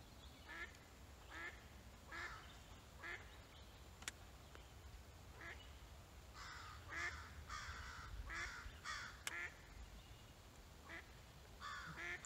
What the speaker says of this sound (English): there's a duck and a crow going at it.